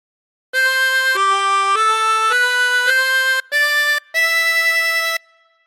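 A 16-hole tremolo harmonica plays a phrase of God Defend New Zealand, a string of clear, wavering sustained notes of varying pitch with two brief breaths between the last ones, close and solo.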